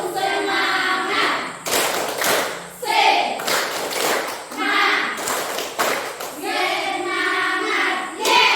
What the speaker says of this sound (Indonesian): Kita ice breaking tepuk semangat.